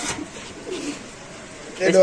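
Racing pigeons cooing in cages at a bird sale: soft, low coos close by, with a louder burst near the end, and people talking over them.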